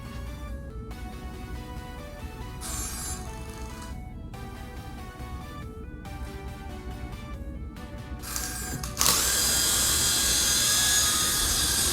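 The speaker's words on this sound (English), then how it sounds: "it's got spinning propellers" A cheap LED flying helicopter ball spins its propellers with a steady high whirring buzz that stops and restarts a few times, then surges into a louder, constant whine near the end, with no talk.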